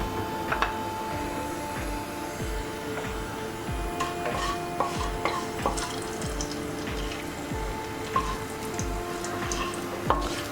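Fenugreek and garam masala leaves fry in oil in a kadai, giving a close, crackling sizzle with watery bubbling and soft rhythmic knocks, under no talk.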